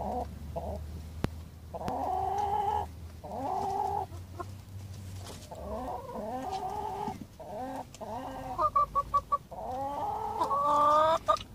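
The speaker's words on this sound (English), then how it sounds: "These chickens have never seen bread or rice." Chickens newly settled into an allotment run cluck and murmur close by in repeated bursts, growing busier and louder toward the end, with no one speaking.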